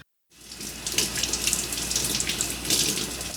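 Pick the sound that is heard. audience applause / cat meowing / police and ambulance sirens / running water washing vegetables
running water washing vegetables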